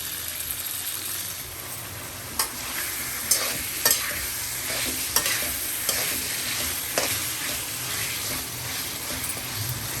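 Marinated chicken for Chettinad chicken fry hisses loudly in hot oil. The sizzle is dense and constant, and sharp spoon clinks and stirring knocks are scattered through it.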